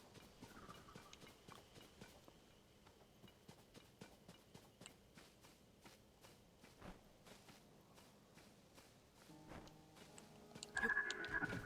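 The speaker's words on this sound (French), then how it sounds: "Oh, un cheval squelette." Skeleton horse hooves clop in the video game Zelda: Tears of the Kingdom, a rapid, faint, steady patter of hoofbeats running throughout, with a brief tonal game chime near the end.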